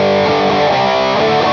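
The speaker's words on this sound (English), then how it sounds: "Now the same setting on this distortion." Electric guitar played through a Colombo Audio Electronics overdrive/distortion pedal with treble turned up, a loud, thick sustained chord ringing with a strummed accent near the end.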